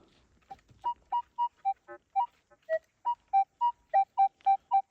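Metal detector signal tones while searching a dug-out dugout or tent site: a series of about fourteen short, evenly paced electronic beeps at varying pitches, clear and close with no talk.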